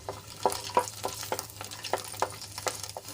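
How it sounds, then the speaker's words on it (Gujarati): Twelve to fifteen garlic cloves sauté in hot oil in a pan, a soft crackling sizzle punctuated by regular clinks and scrapes of stirring, close and quiet with a faint low hum underneath. "તેલ એડ કર્યા બાદ આપણે એમાં બારથી પંદર કળી લસણ એડ કરી લઈશું લસણને આપણે થોડુંક લાલ થાય ત્યાં સુધી સાંતળી લેવાનું છે"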